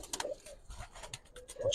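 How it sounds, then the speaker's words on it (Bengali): Giribaz pigeons kept in a loft coo in short soft bursts, a few close, low throaty calls repeating quickly over a couple of seconds with no speech. "এদিকেও কিন্তু কবুতর রাখা আছে, বেশ কিছু কবুতর উঠতেছে।"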